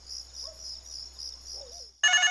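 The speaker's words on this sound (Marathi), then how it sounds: "तुझा फोन आहे." A mobile phone suddenly bursts into a loud electronic ringtone, cutting in after a quiet stretch with a faint high, steady insect-like trill in the background.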